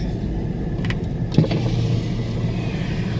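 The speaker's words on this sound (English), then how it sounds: "I'm driving behind a bus, so things will go real slow." A car rolls slowly behind a bus through the streets of Philipsburg, giving a steady low engine and road rumble from inside the cabin, with a brief knock partway through.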